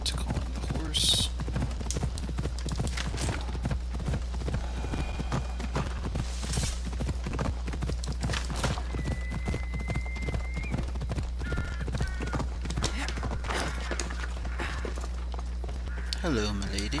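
Steady clip-clop of hooves approaching with a horse's whinny in Assassin's Creed: Odyssey, over constant background hum and occasional speech.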